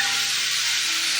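Tomatoes frying in a pan for a brinjal chutney, a short, even, steady sizzle without pauses.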